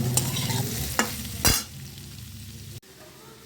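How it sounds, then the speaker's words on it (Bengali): Chopped onion frying in a pan with fried potatoes, a loud close sizzle broken by several sharp stirring scrapes and clatters. "আলু ভাজা হয়ে গেছে, এরপর পেঁয়াজ কুচিগুলো দিয়ে দিলাম আমি।"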